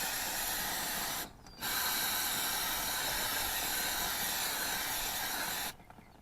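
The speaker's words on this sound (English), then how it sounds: "Alright, spray that off." Steady, loud broadband hiss of an aerosol cleaner spraying onto an engine part of a Ford 641 Workmaster tractor, cut by a brief pause near the start and stopping shortly before the end.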